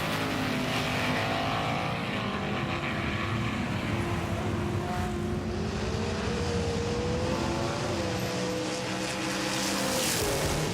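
A Jaguar XJ220 custom car races wheel to wheel against another car, its engine a steady, loud roar with rising and falling pitch sweeps as it works through the gears and the turns.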